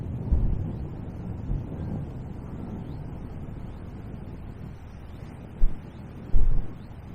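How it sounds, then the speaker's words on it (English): Strong wind buffeting the microphone beside the River Wye during stick-float fishing, a steady low rumble with a few louder gusts near the end and no talk. "Oh, this wind is just ridiculous."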